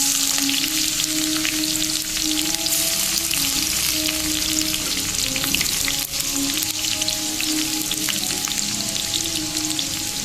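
Garlic frying in a pan while cooking Pindi chole with chopped green chillies, a loud, constant close-up sizzle with crackling pops and an underlying hum, continuing without voices.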